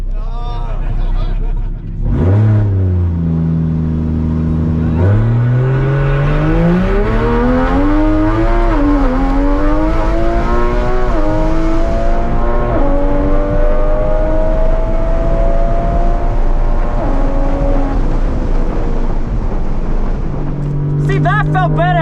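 A Toyota A90 Supra launches hard in a drag race, its engine revving loudly and climbing through several gear changes with rising, falling pitch sweeps, recorded from inside the car.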